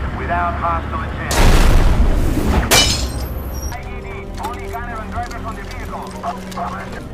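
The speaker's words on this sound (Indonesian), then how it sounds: "sebuah mobil tempur pasukan keamanan terkena ranjau dan membuatnya meledak" A sudden loud blast as a landmine explodes under a combat vehicle in a film, rumbling for over a second before fading, followed by a quieter stretch with a voice and clattering sounds.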